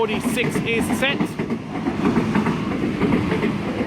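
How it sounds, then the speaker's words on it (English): A Sydney Waratah electric train runs through Turrella station without stopping, with a steady loud rumble and rhythmic clickety-clack of wheels over rail joints, close by, while someone talks over it. "We have another Waratah that's not stopping"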